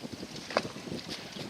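A sailboat moving through light wind during a race, with soft water wash and wind noise against the microphone and one brief brighter splash near the middle.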